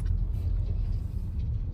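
Car traffic on a road near a grape harvest in the United States gives a steady low rumble of passing vehicles, heard from a middling distance without any talk.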